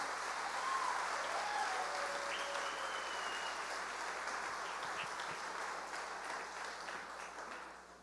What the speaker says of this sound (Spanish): vamos a darle un aplauso bien fuerte a todos los que nos visitan